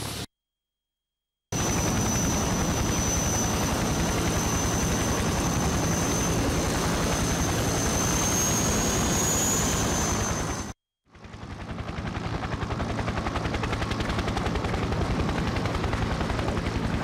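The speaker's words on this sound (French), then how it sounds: "Nous serons déposés par hélicoptère pour rejoindre les falaises bordant ce canyon." A transport helicopter in the war game Conflict Desert Storm drones loudly as troops are flown to canyon cliffs, its rotor thrum steady and continuous, broken by two brief silences and then returning slightly thinner.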